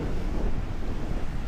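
Gusty wind on a beach in Jamaica, a steady low roar buffeting the microphone with a faint wash of surf beneath it and no voices.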